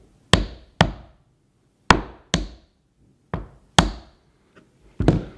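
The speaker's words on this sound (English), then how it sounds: "I'm going to get my hammer and I'm just going to give it a little tap" Sharp hammer taps on metal egg-cup legs ring out in a loose series of about eight strikes, some in quick pairs, each with a short metallic decay.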